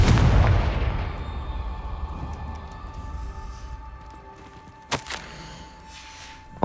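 A Confringo fire spell in Hogwarts Legacy bursts with a heavy booming blast that rumbles and decays over several seconds, followed by a sharp thud.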